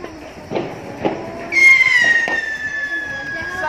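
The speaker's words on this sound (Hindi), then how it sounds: "देखो पटाखे इतने फूट रहे हैं कॉलोनी में, आवाज आ रही होगी आप लोगों को।" Scattered firecracker pops burst at a distance across a residential neighborhood during Diwali, a few sharp bangs spread out, then a long, steady high whistle rings over faint background noise.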